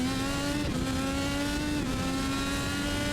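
A race car at Long Beach in iRacing holds a steady, loud engine drone at high revs, a continuous sustained whine with a slight dip and recovery midway, no voices.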